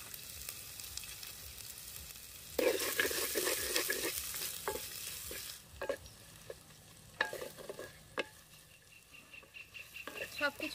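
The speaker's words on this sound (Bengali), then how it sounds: "আদা রসুন পেঁয়াজ হালকা করে ভেজে নেব" Ginger, garlic and onion fry in oil for a raw banana kofta curry, with a loud sizzle bursting in partway through, then fading into steady crackling punctuated by sharp stirring scrapes and clinks.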